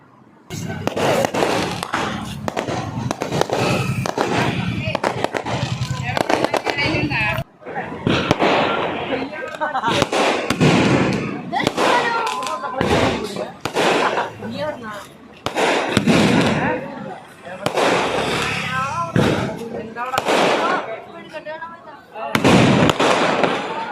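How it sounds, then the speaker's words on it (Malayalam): Fireworks at a temple festival set off a long run of loud, booming bursts and crackles in rapid clusters with short pauses between, while people talk nearby. "എന്നിട്ട് സദ്യയൊക്കെ കഴിച്ച് ഇറങ്ങണ സമയത്താണ് വെടിക്കെട്ടുണ്ടായിരുന്നത്."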